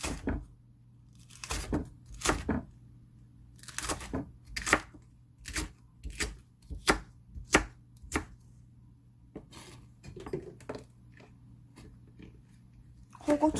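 Knife slicing Cheongyang chili peppers on a cutting board, sharp close chops coming one after another at an irregular pace over a quiet background with low hum.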